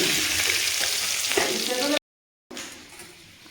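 Dried chillies, bay leaf and panch phoron sizzle in hot oil for a vegetable dal, with a steady loud frying hiss that cuts out briefly and returns softer.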